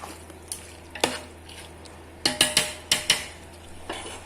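Tomatoes sauté in a pan for chicken biryani: crisp knocks and scrapes of a spoon against the pan come in uneven clusters over a faint, low sizzle.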